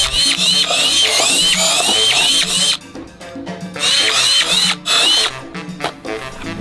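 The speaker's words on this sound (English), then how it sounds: "We're going to drill through the table." A power drill bores through a tabletop in two long, loud bursts of high whining and grinding, with a short pause between them while the bit stops and restarts.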